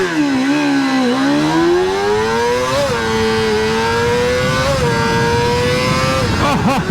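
Kawasaki ZXR250 motorcycle revving hard in first gear with the clutch slipped, a loud, close, rising high-pitched engine scream that holds steady, dips briefly and climbs again before cutting off abruptly.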